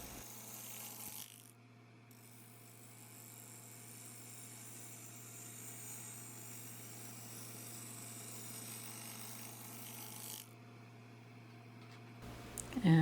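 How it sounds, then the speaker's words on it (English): A wood lathe turning a maple bowl while a sharp bowl gouge cuts it, giving a steady droning whir with a continuous rough cutting hiss. The sound stops briefly near the start and again near the end. "I am taking off a pretty good amount. And that is with a very sharp bowl gouge"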